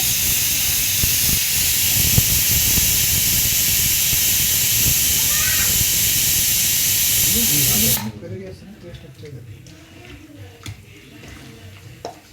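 Curd poured into a hot biryani pot sets off a loud, steady sizzle and hiss that holds for about eight seconds, then cuts off sharply and leaves faint clinks and a quieter room.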